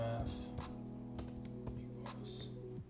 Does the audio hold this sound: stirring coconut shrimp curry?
no